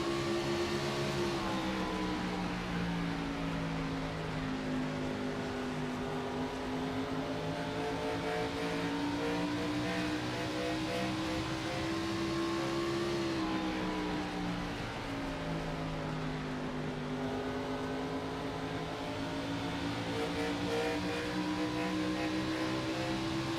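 A race car engine in the iRacing game holds at full throttle, a loud, steady high-pitched drone whose pitch rises and dips slightly as the car works through gear and corner changes.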